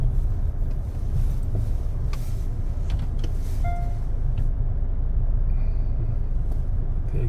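A steady, low diesel engine rumble heard from inside a Hyundai Santa Fe SUV fitted with a Cyclone 7, constant and fairly loud, with no talking.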